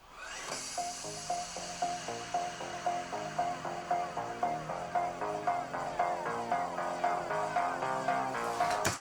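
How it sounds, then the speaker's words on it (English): Music playing through MSI Vector 16 HX laptop speakers at half volume, with steady rhythmic pulses and sustained melodic tones repeating throughout at a moderate level. "Audio test of the MSI Vector 16,"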